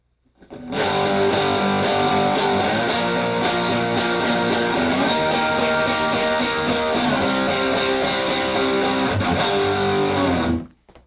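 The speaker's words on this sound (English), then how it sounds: "now we're on distortion on the amp and we're playing power chords" Heavily distorted Fender electric guitar through an amp rings out in sustained power chords, shifting between a few chord shapes over about ten seconds before cutting off.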